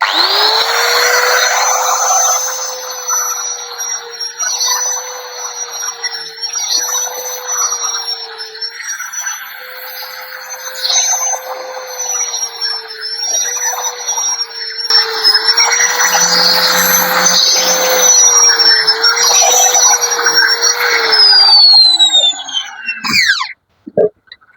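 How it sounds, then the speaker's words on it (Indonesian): An angle grinder fitted with a sanding disc works a machete blade in a loud, sustained whine that rises and dips as pressure changes, then spins down and stops near the end. "Kita siapkan mata gerinda amplas yang susun, kemudian air."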